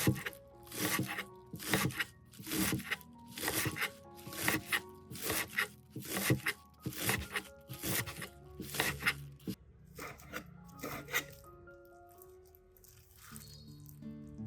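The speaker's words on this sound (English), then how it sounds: "Another way is to cut it into bite-sized pieces." Repeated knife chops knock against a cutting board as green onions are cut into bite-sized pieces, in a steady, close rhythm, slowing to a few scattered taps before stopping.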